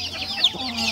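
A hen clucks in a backyard, a short run of close, fairly loud clucks and squawks with a slight rise near the middle and other faint fowl noise behind.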